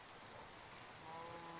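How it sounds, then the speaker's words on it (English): Steady rain pattering down in a soft, continuous wash, faint and even, with a faint tone near the end. "Oh, cool, it's raining"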